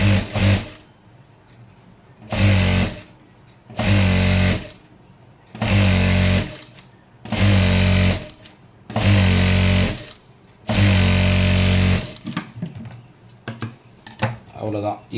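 Sewing machine stitching the seam of a chudithar pant, running in about six loud bursts of a few seconds each, separated by short pauses, with faint handling noise near the end.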